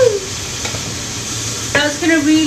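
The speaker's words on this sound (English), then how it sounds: "Watch it sizzle." Lemon juice poured into a hot pan makes the food sizzle with a steady, close hissing crackle that fills the whole moment. A brief voice rises over the frying near the end.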